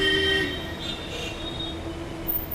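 Metro train passing on an elevated bridge in Delhi, a steady rumble of rolling cars with a thin high wheel squeal, moderately distant and continuous.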